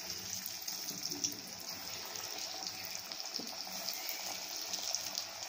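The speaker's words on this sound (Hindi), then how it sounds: "ये देखिए ये ऑयल गरम हो गया है, हम सिंपर कर लेंगे, अभी एक एक पीस करके डालेंगे ऐसे।" Chicken popcorn pieces frying in hot oil in a kadhai, a steady, even hiss and crackle that stays constant throughout, heard close with no speech.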